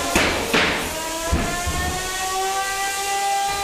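3lb combat robots Stoneforge and Voxel collide in an arena with several sharp metallic bangs and thuds in quick succession, over the steady high whine of a spinning weapon motor.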